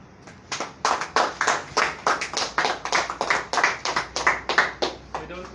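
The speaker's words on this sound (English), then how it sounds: "We don't usually clap at press briefings, but this one is so inviting" People at a press briefing on a gender equality and women's empowerment act in Sierra Leone clap in a steady, rhythmic beat, about a dozen or more distinct claps ringing out close and clear.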